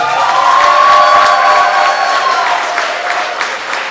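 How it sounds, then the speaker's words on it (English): Wedding guests at an event venue applaud and cheer the newlyweds, a loud crowd roar with clapping and raised voices that gradually eases off. "Let's give them another round of applause"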